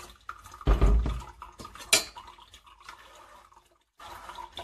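Tamarind pulp being strained with about a litre of water, with soft dripping and trickling liquid, a burst of clattering utensils and a sharp knock, then low wet rustling, fairly quiet and without talk.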